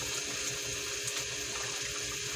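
Water runs steadily into a pot of pork menudo as it cooks, a soft, continuous pouring hiss that stays quiet and even the whole time, with no voices.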